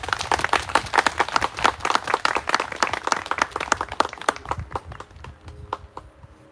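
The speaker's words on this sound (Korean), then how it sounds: "박수 주십시오." An audience applauding at a memorial ceremony, with dense, loud, steady clapping from many people in a room that thins out and fades toward the end.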